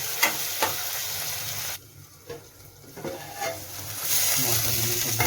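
Jackfruit curry with tomatoes sizzles and bubbles in a pan set to cook covered, with a quieter dip partway through and a few soft clinks before the frying rises again.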